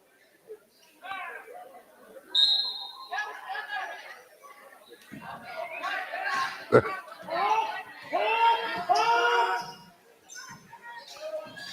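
A short, shrill whistle from a referee at a varsity basketball game between Newberry and Engadine cuts through gym crowd chatter, followed by squeaks, voices and echoing court noise.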